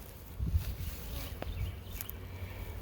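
Honeybees buzzing around beehives in a steady, close, dense drone with no gaps, with faint sounds of movement nearby.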